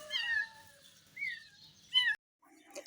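An abandoned street cat meows in several distinct plaintive calls, close and fairly quiet, separated by short pauses, with a brief faint trailing sound at the end.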